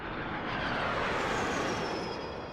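An F-4 fighter jet flies overhead, a broad, steady roaring engine rush that swells slightly and holds, with no voices.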